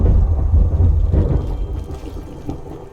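Thunder from the Rustic Weathers mod in Skyrim Anniversary Edition rolls in as a loud, deep rumble that peaks early and slowly fades, with faint rain texture underneath.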